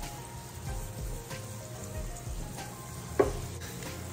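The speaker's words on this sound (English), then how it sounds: "Keep stirring." Cheese sauce stirred in a pan with salt added, a soft continuous sizzle-like bubbling with gentle spoon movement and one sharp tap near the end, close and quiet, no voices.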